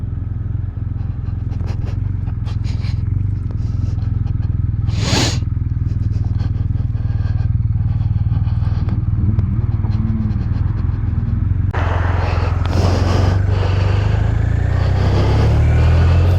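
A BMW R1250R motorcycle pulling away from the Silver Ball Café, a loud close engine drone under heavy wind rumble, with brief clatters and a rise in revs near the end.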